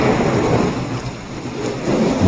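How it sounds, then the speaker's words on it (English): Regular rain in Fallout 4 on Xbox with the True Storms: Wasteland Edition mod, heavy and continuous, a loud dense hiss with no breaks. "Now this is regular rain."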